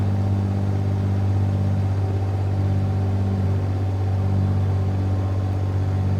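Engine run-up of a Piper PA-28R Turbo Arrow in Microsoft Flight Simulator, a steady loud droning hum with strong low harmonics, unchanging and continuous across the whole stretch.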